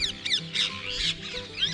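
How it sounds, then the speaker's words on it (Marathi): Parrots chirping outdoors at an old palace site in Mandu, Madhya Pradesh, giving a quick run of high, squeaky chirps at moderate distance, with no talking. "आणि हे बघा इकडे पोपट"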